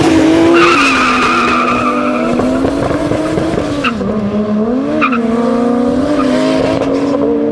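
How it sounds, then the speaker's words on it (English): Drag race cars rev hard at the start line, then launch with loud tire squeal and a rising engine roar, all close and forceful. "Look at those start line revs."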